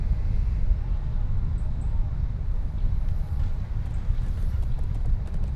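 Galloping horse hooves in the medieval combat game Chivalry 2, a muffled low drumming of thuds under steady wind-like rumble, with no one talking.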